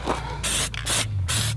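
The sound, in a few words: spray paint can spraying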